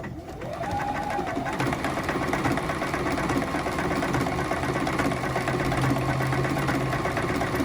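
Close by, a sewing machine runs a test stitch on quilt binding over black fabric, giving a steady, continuous whirring hum without pauses.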